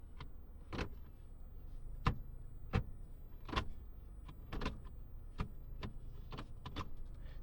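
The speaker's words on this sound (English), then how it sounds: "That's the most properly, like, clicky, snickety sounding automatic shifter I've ever used." A series of sharp mechanical clicks and snicks from a 2019 Mazda 3 automatic gear shifter moving into drive, irregularly spaced, close up and quiet.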